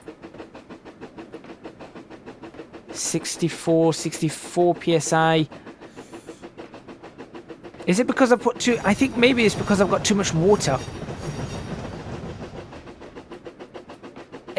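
The Flying Scotsman steam locomotive in Trainz chuffs slowly and steadily in a fast regular pulse while gathering speed, with someone talking over it in two stretches.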